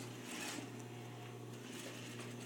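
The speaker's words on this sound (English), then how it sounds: "I'm going to stitch it with 1/2 inch seam allowance" A sewing machine runs steadily through a garment seam with a half-inch allowance, giving a continuous close mechanical whir and hum with fine rapid ticking, with no talk.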